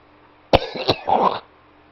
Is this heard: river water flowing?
no